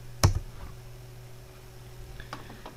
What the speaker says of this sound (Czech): zmačkneme na klávesnici R